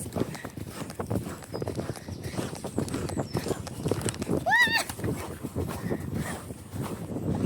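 Steady clip-clopping of horse hooves close by on a British country lane, with a brief whinny partway through and some outdoor wind noise in the background.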